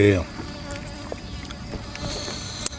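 Flies buzz faintly and continuously around a tray of spicy papaya salad being eaten outdoors, a thin steady drone after a brief opening voice.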